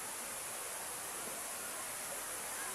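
Sai Yok Noi Waterfall in Kanchanaburi pours in a dense, continuous broadband roar of falling water that masks most other sound, steady and close throughout.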